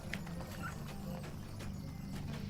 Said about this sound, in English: we can jump on the festival horse